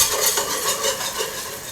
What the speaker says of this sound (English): now in goes the flour, and we will whisk this and cook it to form a brown roux